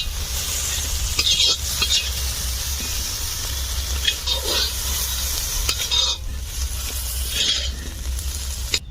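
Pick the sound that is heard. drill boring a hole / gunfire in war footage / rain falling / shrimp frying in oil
shrimp frying in oil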